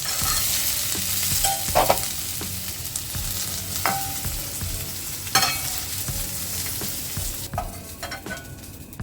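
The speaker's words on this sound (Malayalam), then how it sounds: "അപ്പോൾ നമ്മുടെ ചിക്കൻ ചെറുതായിട്ടൊന്ന് ഫ്രൈ ആയിട്ടുണ്ട്" Pieces of chicken frying in hot oil in a pan for a chicken roll, with a steady sizzle broken by repeated scrapes and clinks of a spoon stirring and lifting them.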